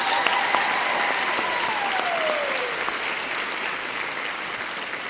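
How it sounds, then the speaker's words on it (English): Steady applause fills a school district convocation hall as speakers leave the stage, dense and even clapping from a large audience, with a faint tone gliding downward early on and no voices over it. "One more round of applause as they exit stage."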